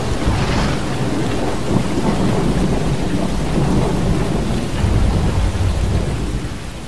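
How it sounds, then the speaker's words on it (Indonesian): Heavy rain pours continuously in a radio-drama storm effect, with loud thunder rumbling beneath the dense hiss and booming rolls rising and falling throughout. "Kilat dan petir menyambar-nyambar."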